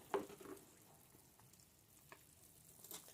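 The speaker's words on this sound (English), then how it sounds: "So this is what the mixture looks like. It's boiling." A pot of fresh turmeric, ginger, hibiscus flower and orange peel tea boils quietly, giving soft crackling, popping and bubbling with a few sharper ticks, close but low in level.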